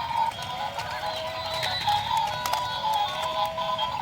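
A horse whinnies during a race in a garden. Rapid galloping hoofbeats run underneath, and the neighs recur over a busy, steady background.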